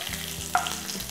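A tempering of dried red chillies frying in hot oil makes a close, bright sizzle with crackling pops, brief and fairly quiet, with a faint stirring clatter.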